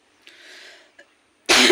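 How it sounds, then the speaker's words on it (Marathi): Several dry coughs from one person indoors: a soft short cough, a longer breathy rasp, another brief cough, then a loud harsh cough close to the mic. "तसंच मला पण खोकला लागलाय"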